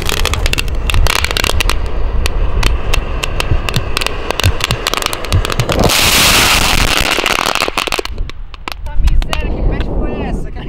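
A firework mortar goes off inside an armored helmet, a loud burst of crackling and hissing bangs with a sustained fizzing roar, as people talk and react around it.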